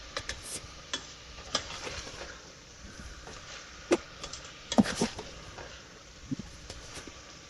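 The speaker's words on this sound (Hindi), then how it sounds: "अब इसको अच्छी तरह भूनते हैं।" Minced chicken keema being stirred and fried in a pan, with soft scraping stir strokes and light sizzling, a few sharper clinks of the spoon against the pan standing out.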